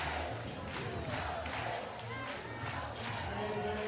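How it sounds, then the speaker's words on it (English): Crowd noise at a college softball game between Oklahoma and Arizona late in a one-run contest, a steady roar of cheering fans rising to their feet, with a commentator talking over it. "You can hear the crowd. Everyone is starting to get on their feet."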